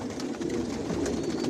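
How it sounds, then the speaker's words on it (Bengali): Foreign racing pigeons of the Janssen line coo softly in a loft, a brief, low, blended murmur close by with no voices. "আর এগুলো সব বিদেশি কবুতর"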